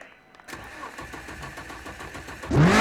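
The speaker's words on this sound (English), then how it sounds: "start the car" In a racing video game, a Lotus 49 engine starts: a clicking starter churn builds briefly, then the engine catches and roars loudly up at the end, heard alone and up close.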